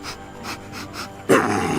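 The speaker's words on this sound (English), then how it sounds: "Why is there even a rabid dog in this neighborhood?" A dog pants rapidly in short rhythmic breaths close by, then lets out a louder rough burst near the end.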